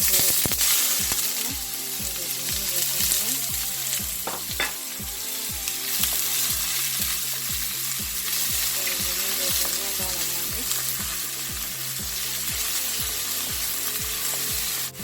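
Oil sizzles and crackles loudly in a pot on the fire, with a steady run of rhythmic scraping or stirring strokes close by and no talk.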